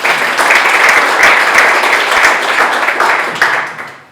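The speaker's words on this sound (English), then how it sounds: "So we could have a round of applause maybe." An audience at a legislative luncheon claps in a loud, dense round of applause that holds steady for several seconds before tapering off at the end.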